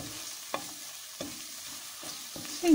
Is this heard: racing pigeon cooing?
no